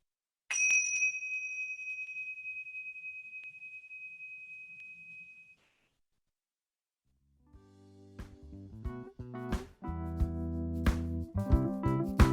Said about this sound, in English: when you hear the bell, we can finish